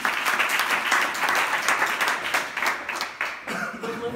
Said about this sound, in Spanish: Un aplauso para ella, papá.